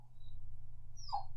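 Near the end a dog lets out one short, rising whimper over a steady low electrical hum, with a faint thin whine earlier on.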